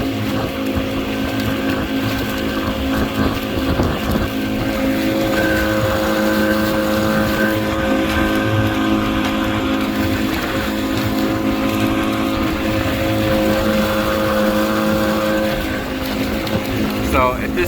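A custom bangka boat's engine drones steadily while cruising along a shoreline at barely cracked-open throttle, a loud, constant hum mixed with wind rush.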